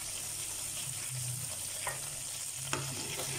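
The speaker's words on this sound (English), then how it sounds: "And then we fry." After kebab meatballs are scooped out, the same pot sizzles quietly with hot oil and loose bits of onion and mint, a faint steady fry with a brief clink near the end.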